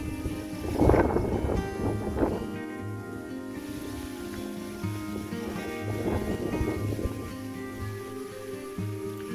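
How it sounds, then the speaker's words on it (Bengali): Wind buffets the microphone in low rumbling gusts among swaying coconut palm leaves on a morning, strongest near the start and again later, with a steady blustery background. "আজকে অনেক বাতাস"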